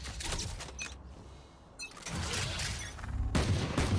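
Gunfire from the tactical shooter Valorant during a match on the Split map, a burst of shots and impacts that is loud near the start and again at the end, with a short lull in between.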